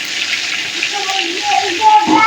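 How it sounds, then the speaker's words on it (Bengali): Water poured into a cooking pot while chicken biryani is being made, a steady close gushing splash lasting a couple of seconds, with a voice talking over it. "জল দিয়ে দেবো,"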